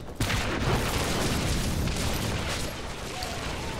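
Dense, rumbling booms and blasts pile up continuously in a noisy battle scene in the video game Orcs Must Die 2, with a sharp hit near the start and a steady wash of explosions.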